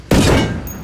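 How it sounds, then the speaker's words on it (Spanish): A single loud, sharp gunshot in the video game Tom Clancy's Ghost Recon Wildlands, with a booming report that rings out and decays over most of a second. "Un disparo. Vehículo escolta destruido. Dos disparos."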